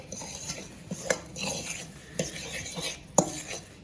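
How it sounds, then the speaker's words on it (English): Breading is mixed with egg in a bowl, with close clinks and scrapes of a utensil against the bowl in uneven bursts and soft stirring between them. "basically just start mixing it with the egg"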